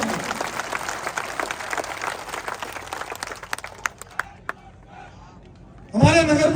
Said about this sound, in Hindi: तालियां बजाकर उनका स्वागत करें।